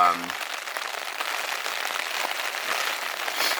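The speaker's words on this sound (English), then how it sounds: "but it kept raining harder." Steady spring rain hisses continuously at a campsite in Algonquin, a dense even patter that swells slightly toward the end.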